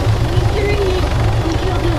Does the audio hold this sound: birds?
no